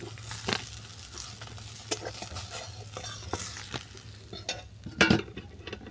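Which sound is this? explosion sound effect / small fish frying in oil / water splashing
small fish frying in oil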